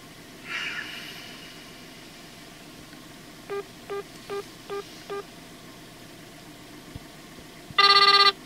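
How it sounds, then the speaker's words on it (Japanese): A telephone call ringing on the line to a roadside diner, heard as four evenly spaced short electronic ringback pulses. A louder, brighter electronic burst follows near the end over a quiet background hum. "ちょっと電話してみます。"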